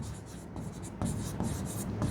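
Writing on a board during a Hindi biology lesson on gametogenesis gives quick scratchy strokes, a steady run of near, close marks with slight taps, and no talk over it.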